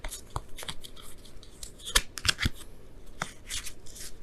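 Tarot cards being shuffled up close: crisp papery riffles and sharp snapping clicks arrive in scattered bursts, with quieter rustling in between.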